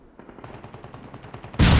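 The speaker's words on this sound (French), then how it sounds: "on va lancer une grenade. Flashbang!" A flashbang grenade goes off in a video game, a sudden loud broadband burst near the end, preceded by a run of rapid, even gunfire-like clicks.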